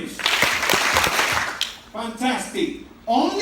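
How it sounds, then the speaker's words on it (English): A classroom group of trainees claps in sharp bursts at the start, the slaps loud and close, then the room falls back to talking voices. "Clap 3 times."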